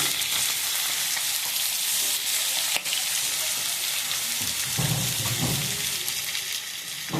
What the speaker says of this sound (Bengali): তেলের মধ্যে পেঁয়াজ কুচিয়ে রেখেছিলাম, সেটা দিয়ে দিলাম।